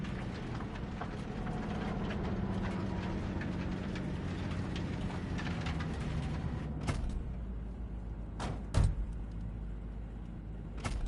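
A train in Cyberpunk 2077, a steady loud rumbling roll with mechanical whirring that runs throughout, followed near the end by a few sharp clunks and clicks.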